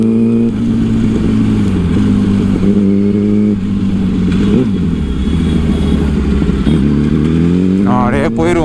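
A 2008 Yamaha R1 sportbike engine drones loudly and steadily while riding, with a brief rev swell midway and a rising rev at the end; a rider talks over it.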